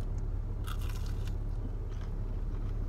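Crunchy bites into a fried McDonald's spicy chicken nugget, a few brief crackling crunches close to the mic over a steady low hum of background noise, with no talking.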